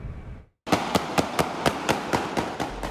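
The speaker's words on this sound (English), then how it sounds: "A stream of gunshots outside Casino Miami Thursday evening" A rapid stream of gunshots on a Miami street outside a casino in the evening, about ten sharp loud cracks in quick, even succession after a brief silence.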